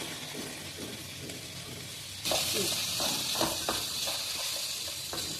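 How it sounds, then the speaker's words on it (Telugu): Coriander, mint and curry leaves frying in oil for a veg biryani, a quiet sizzle that swells suddenly into a loud, bright hiss, with faint stirring clicks and no talk. "తర్వాత కొత్తిమీర, పుదీనా, కొంచెం కరివేపాకు ఇలా ఫ్రై చేసుకోవాలండి"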